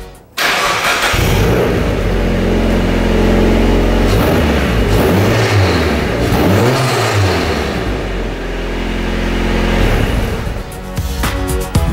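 Turbocharged Mazda Miata with a newly fabricated exhaust revving hard, loud and close, the engine note rising and falling in repeated sweeps over about ten seconds before a brief drop at the end.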